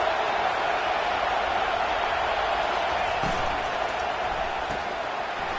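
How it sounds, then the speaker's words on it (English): College football stadium crowd roaring on first and goal, a steady, loud wall of distant crowd noise with no breaks, a few faint thumps underneath. "Fans are bringing the noise on 1st and goal."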